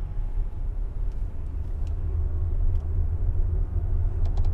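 A Tesla car accelerating on the road, heard from inside as a steady low rumble of road and tyre noise that builds slightly, with a few faint clicks and no voices.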